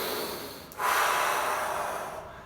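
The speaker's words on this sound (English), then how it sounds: "we breathe in and out through the solar plexus muscle" A single deep breath drawn in and out through the solar plexus, close and fairly loud, a soft airy rush that swells after a brief pause and slowly fades.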